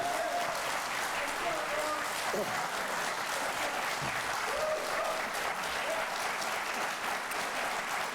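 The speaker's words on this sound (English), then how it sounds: "Would you hold the applause, please?" Sustained audience applause fills a university hall after a Rhode Island Senate candidates' debate, a continuous steady clatter of many hands with faint voices briefly surfacing underneath.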